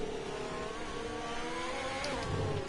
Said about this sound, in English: I'm going to let this McLaren pass here